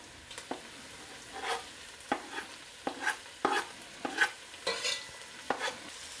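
Onion, green pepper and chili sizzle in a curry pan for lamb and chickpea curry, with steady frying hiss broken by repeated scraping stirs of a spoon against the pan, close and fairly loud, no talking.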